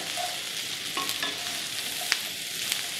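Sausage and peppers sizzle in a hot pan as they are stirred, a steady close frying hiss with a few light scraping clinks from the utensil, no voices.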